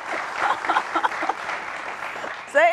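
An audience claps at a public discussion event, scattered applause building and fading with some voices mixed in, ending with a brief whistle-like tonal sound.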